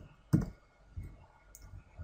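A computer mouse gives a single sharp click near the start, followed by a few fainter ticks against a quiet room background.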